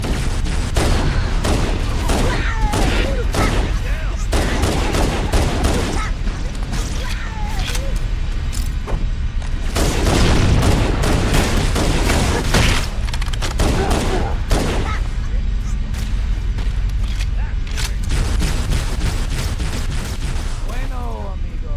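Rapid automatic gunfire from Halo: Combat Evolved rattles in sustained bursts with mechanical clanks, while soldiers shout over the firefight.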